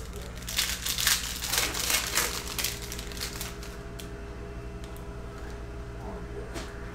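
Foil trading card packs of 2019 Prizm football being ripped open, bursts of crinkling and tearing up close, loudest at the start then fading to occasional rustles.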